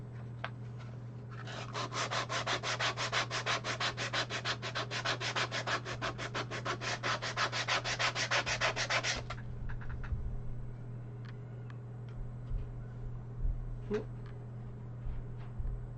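Steady, rapid pressing by hand into soft, supple leather for several seconds, close and fairly loud, then fading into quiet room noise with a faint hum.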